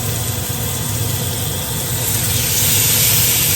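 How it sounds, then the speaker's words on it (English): Steaks searing in cooking oil in a hot skillet give a loud, steady sizzle and hiss that swells slightly toward the end, close up with no talking. "we're going to put our steaks right into this hot skillet"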